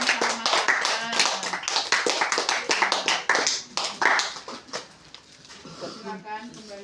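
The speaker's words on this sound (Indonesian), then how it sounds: "Tepuk tangan buat kelompoknya Mas Armin sama Mas Arkan." Classroom clapping for a student group after their presentation, a quick burst of hand claps mixed with a teacher's voice talking over it, fading toward the end.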